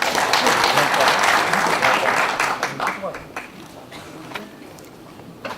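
A room of party members at a National Assembly lawmakers' workshop opening ceremony gives loud applause for the next speaker, dense clapping that thins out after a few seconds into scattered claps as talking begins.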